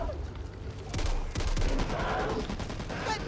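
Gunfire in the zombie shooter Back 4 Blood, bursts of rapid shots clustered in several loud volleys over steady game noise, with no speech.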